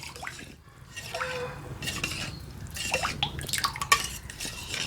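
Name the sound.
pouring liquid batter into a dish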